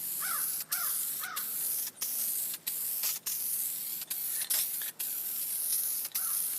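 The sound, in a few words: spraying interior trim dye paint on BMW or Mercedes upholstery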